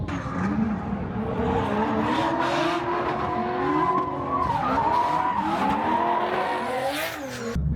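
A car drifting at a drift event squeals its tires in long, continuous, wavering skids over a revving engine, loud and close for the whole stretch with no talk.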